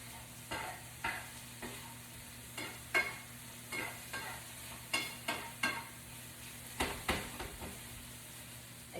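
Shrimp and garlic fry in a skillet with a steady background sizzle, broken by a dozen or so sharp scraping clacks as the pieces are tossed and turned, moderately close and with no talking.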